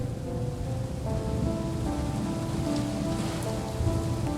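Steady rain falls continuously, a dense, even patter with no voices present.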